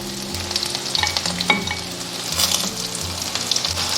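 Chives crackle and sizzle in a pan of fried garlic over low heat, with a steady, close frying hiss and scattered pops throughout and no talking.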